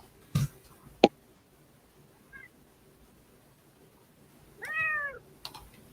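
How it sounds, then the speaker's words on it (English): A house cat lets out one clear, drawn-out meow close by in a quiet room, preceded by a few sharp clicks and taps and a brief faint chirp. "Cat, what are you doing?"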